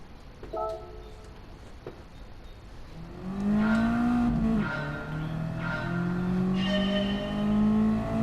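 A car engine revs and climbs through the gears on the Nürburgring in Gran Turismo, rising sharply from near silence into a loud, sustained drone with shifting pitch, joined by faint tire noise.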